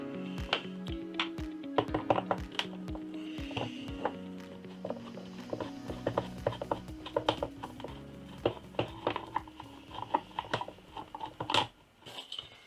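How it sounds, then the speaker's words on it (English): Close, dry clicks and taps of a screwdriver working three star-headed screws out of the base plate of a SEBO Automatic X7 or XP series upright vacuum cleaner, irregular and scattered with small metallic rattles, no talking. "The first thing we need to do is to take these 3 screws out."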